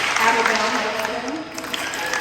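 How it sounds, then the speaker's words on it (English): Audience applause at a school sports awards banquet, a steady dense clatter of many hands clapping continuously throughout, fairly loud and close, with no talk over it. "let your peers applaud you for all of your hard work"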